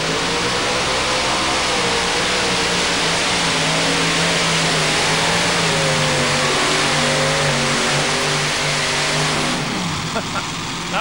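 A modified pulling tractor at an NTPA championship tractor pull in Bowling Green, Ohio, roars at full throttle through a run, a loud, dense engine howl with rising and falling pitch as an announcer talks over it.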